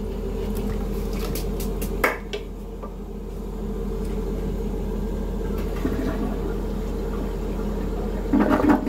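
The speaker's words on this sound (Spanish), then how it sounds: "Vamos a bajar el agua y para verificar que nuestro baño sí quedó limpio o no" Toilet flushing after its bowl was scrubbed clean in a home bathroom, a steady rush of water running through the whole stretch with a faint knock partway through and a brief surge near the end.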